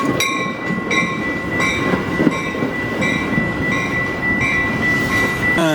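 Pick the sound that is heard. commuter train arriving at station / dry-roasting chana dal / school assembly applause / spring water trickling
commuter train arriving at station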